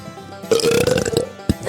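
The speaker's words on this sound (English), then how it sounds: "That's the burp" A loud, close burp sound effect rumbles for about a second, followed by a brief second croak.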